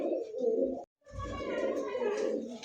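Kashmiri high-flyer racer pigeon cooing close by, a low throaty burbling coo that breaks off for a short pause then resumes with a longer rolling call.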